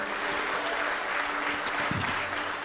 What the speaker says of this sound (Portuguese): Aplaude o Senhor se você deseja.